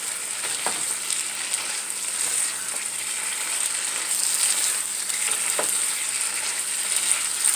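Chicken pieces frying in a pan of homemade gravy, a steady close sizzle with occasional soft stirring scrapes, continuous and fairly loud with no talking.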